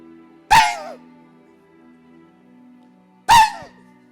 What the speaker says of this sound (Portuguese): O cão.